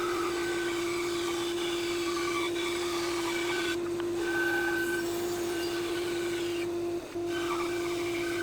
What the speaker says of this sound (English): And then I'm just cutting the inside angle on the bandsaw.